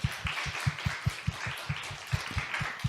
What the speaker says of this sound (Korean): 우리 살아계신 하나님 앞에 영광의 박수 돌리겠습니다